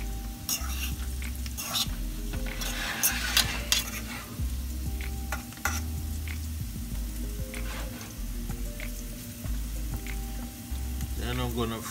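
Jerk tofu frying in vegetable oil in a pan, a steady close sizzle with occasional stirring scrapes and clinks against the pan, and quiet speech at times.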